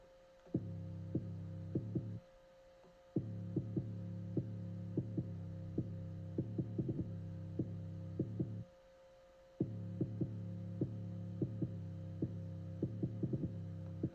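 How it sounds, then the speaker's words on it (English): A deep, booming 808 bass in a beat throbs in long sustained notes with short gaps, while crisp hi-hat ticks patter on top in a looping pattern. "I'm going to play the second 808 pattern for y'all right now."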